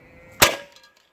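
One sharp, close gunshot as a .3 caliber ball is fired through an apple juice carton, a sudden crack that fades within a fraction of a second.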